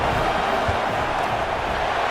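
A home crowd cheers in a Penn State vs Georgia college football video game, a broad, steady roar of many voices that stays loud and continuous for the whole moment.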